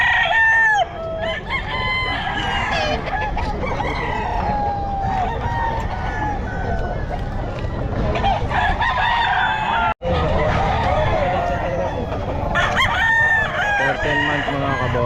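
Young roosters at a busy pet market crow repeatedly among clucking fowl, loud and close, layered over constant crowd noise, with voices talking nearby.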